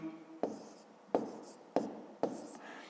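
Pen or chalk marking numerals by hand, four distinct sharp strokes at a steady pace, each followed by a brief scratchy trail, close and quiet.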